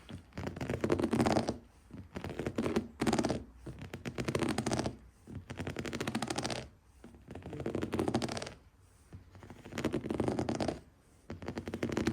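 Grippy stickers on a motorbike being scratched, in rhythmic bursts of close rasping scrapes separated by brief pauses.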